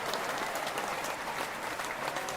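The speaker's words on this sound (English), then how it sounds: "listen to that applause" Steady applause from an audience at a Halloween party podcast taping, a dense, continuous clatter of many hands, fairly loud and unbroken for a couple of seconds.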